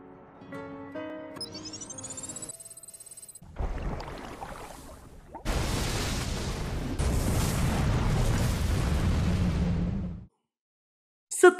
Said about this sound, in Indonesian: ledakan hebat pun meluluh lantakan seisi gedung itu